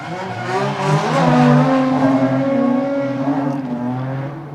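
Drift cars powered by Nissan VQ engines revving hard at a street-class drifting competition, loud sustained engine wails rising and overlapping as the cars slide, close and continuous.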